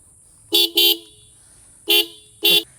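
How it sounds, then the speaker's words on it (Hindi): Four sharp honks from a loud aftermarket horn on a Honda CB350RS motorcycle, a quick double blast, a pause, then two more single blasts, close by. "एक बार इसके हॉर्न की भी आवाज़ सुना देता हूँ।"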